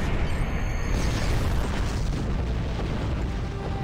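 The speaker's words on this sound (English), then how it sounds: "Double explosion." Explosions go off in the space video game Star Trek Online, a loud, sustained rumbling boom with broadband roar that fills the whole moment without pause. No voices.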